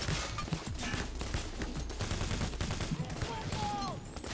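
A steady clatter of gunfire from Payday: The Heist, dense overlapping shots with a sniper rifle among them, running continuously at moderate distance with faint tonal game sounds mixed in.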